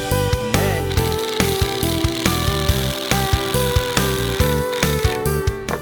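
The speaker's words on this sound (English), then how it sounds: "First, you take your drill and you start drilling nice and slow." A power drill runs in repeated short bursts with a steady motor whine, driving a screw in slowly with brief pauses, loud and close, with no talking.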